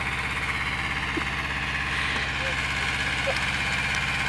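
A tractor engine idles steadily at a potato planting, a continuous low rumbling drone with constant loudness and no breaks.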